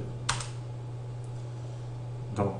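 Two short bursts of computer keyboard typing, a quick cluster of key clicks near the start and another near the end, over a constant low electrical hum in a quiet room.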